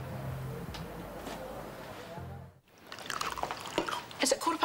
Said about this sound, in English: And here I am pouring a second cup.